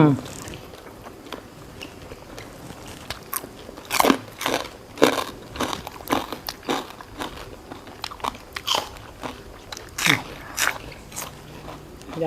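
Crunchy chewing of a spicy Thai yam yor salad with pork sausage, with repeated close, crisp bites in an uneven rhythm. A voice talks between the bites.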